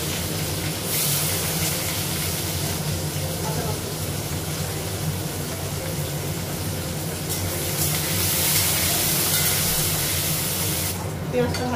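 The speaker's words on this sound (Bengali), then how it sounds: "পেঁয়াজটা ভাজা হয়ে গেছে" Onions fry in a pan on a home kitchen stove, giving a steady, close sizzling hiss that runs unbroken for several seconds, with brief surges of spattering near the end.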